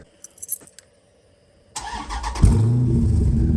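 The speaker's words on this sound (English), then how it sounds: "She don't sound bad for just a muffler delete." Keys jingle faintly, then a truck engine cranks and catches, settling into a loud, steady, raspy idle through an exhaust with the muffler deleted, close by.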